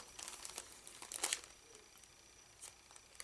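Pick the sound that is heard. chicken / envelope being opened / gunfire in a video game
envelope being opened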